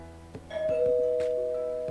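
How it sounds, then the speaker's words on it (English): Two-tone doorbell chime from the dragon visual novel Angels with Scaly Wings, a single ding-dong ringing clearly and sustaining briefly with no speech. "My musings were interrupted when the doorbell rang."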